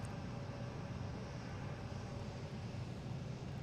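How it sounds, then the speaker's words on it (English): A JetBlue A220 Blueprint-livery airliner at Boston Logan International Airport, heard as a faint, steady distant jet engine roar with a broad airport rumble, no voices. "Here is a JetBlue Blueprint plane."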